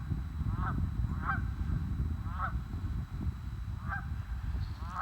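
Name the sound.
family of geese honking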